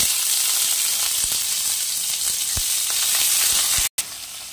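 Chopped onion frying in a pan of hot oil tempered with whole tea chillies, with a steady close sizzle and occasional scraping stir strokes, briefly cut to silence near the end.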